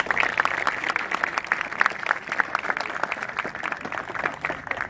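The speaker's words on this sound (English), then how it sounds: "y'all can clap for that" Audience at a park groundbreaking ceremony claps steadily, a dense crowd of hands sustained for several seconds at moderate distance with no voices over it.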